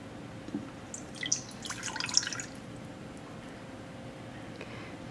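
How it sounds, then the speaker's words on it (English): Water pours and drips into an Instant Pot for a pot roast. The splashing is quiet and comes in brief bursts, then settles into faint background noise. "The directions are telling me to add water to the pot."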